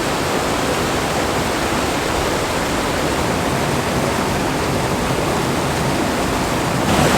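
Mountain spring water on Colorado's Alpine Loop, a dense, steady rushing wash that holds loud and unbroken throughout, close by, with no voices over it.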